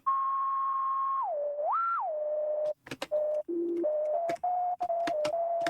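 A pure, flute-like sine tone synthesized in FL Studio with resonant feedback holds steady, then dips and rises in pitch before settling into lower sustained notes, with sharp clicky bursts breaking in during the second half.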